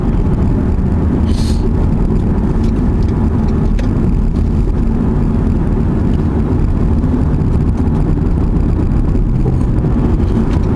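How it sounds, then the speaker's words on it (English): Steady, loud road and engine rumble from a 2018 Ford Fusion Sport accelerating on the road, heard from inside the car as a dense continuous roar with wind noise throughout. "The acceleration's effortless. You just touch the throttle and you're going."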